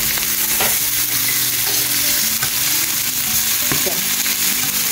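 A side dish frying and being stirred in a pan for a Konkani home recipe, with steady loud sizzling throughout and scraping stirs knocking in at intervals.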